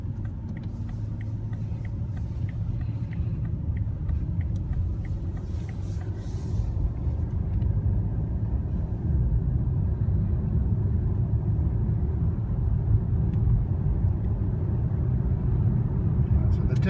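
A 2016 BMW 740i in sport mode gives a steady, loud engine and road rumble from inside the cabin that builds slightly as the car accelerates, with a continuous low drone throughout.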